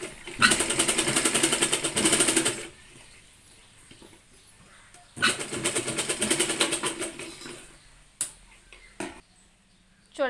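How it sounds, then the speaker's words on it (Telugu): A home sewing machine stitches a fall onto a cotton saree, running in two steady loud bursts of a few seconds each, with brief handling clicks between and after. "ఇప్పుడు స్టిచ్ చేసుకోవాలి."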